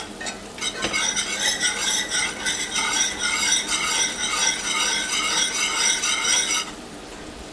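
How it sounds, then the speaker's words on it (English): A spoon stirs a flour, butter and oil roux in a hot pan, producing a continuous close scraping and gentle sizzle for several seconds before stopping abruptly. "Now I'm going to stir this this flour and butter and oil mixture all together here"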